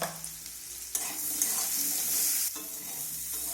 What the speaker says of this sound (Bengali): আবারও আমি সামান্য হলুদের গুঁড়ো দিয়ে আলুগুলোকে ভাজবো।